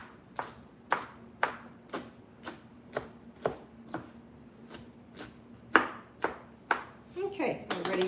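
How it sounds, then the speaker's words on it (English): Shrimp for tacos is rough-chopped with a knife on a cutting board, a dozen crisp, evenly spaced chops close by, then a quicker clatter at the end. "we'll just do a quick rough chop over all of them now"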